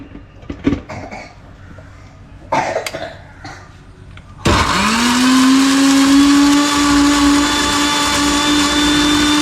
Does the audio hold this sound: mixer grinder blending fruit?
yes